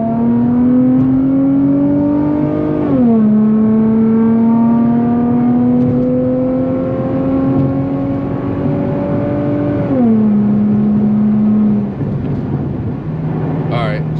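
A DE Motors car revs and accelerates in a strong pull, the engine note climbing steadily through the gears with clear shifts, loud and close, then settling to a steady drone.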